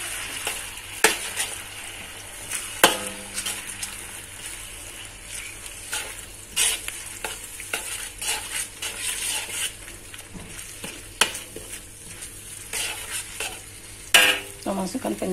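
Vermicelli and egg stirred in a frying pan, a steady sizzle and crackle of frying carrying on throughout, with repeated scraping and clinking of the spatula against the pan.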